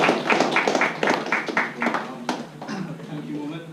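Audience applause at an LSE Pakistan Society debate, a burst of rhythmic hand claps in a hall for a couple of seconds that fades as a voice starts speaking.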